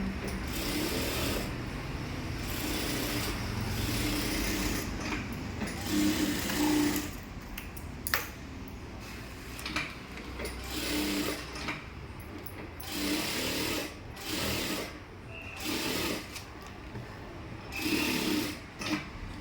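A sewing machine stitches a blouse neckline in a steady mechanical whir and rapid clatter, starting and stopping in short runs, recorded close indoors.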